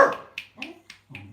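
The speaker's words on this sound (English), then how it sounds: "It's a tiny wee dog as well." A tiny dog barks in a run of four or five short, sharp yaps, each clipped and spaced a fraction of a second apart, close by and fairly loud.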